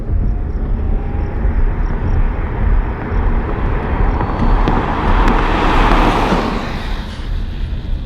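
A Chevy Bolt electric car accelerates hard with traction control disabled, giving a loud, rising rush of tyre and road noise with a swelling whine that peaks near the end, no one speaking.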